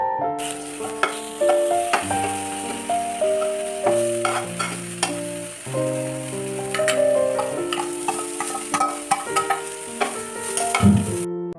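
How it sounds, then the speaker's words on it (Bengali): Eggplant slices coated with chili powder, turmeric and salt fry in a little oil, giving a steady sizzle with some stirring that sits under prominent background music. "এখন একটু হালকা তেল দিয়ে দেন ভেজে নিচ্ছি।"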